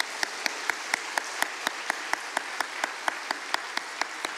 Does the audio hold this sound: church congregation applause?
yes